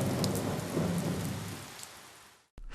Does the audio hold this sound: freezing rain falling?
yes